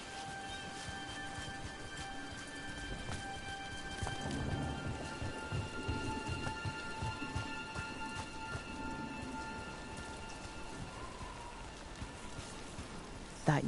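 Steady rain with low rolling thunder in the video game Dragon Age: The Veilguard, a continuous wet hiss at moderate level with heavier rumbling swells midway and faint tonal background sounds.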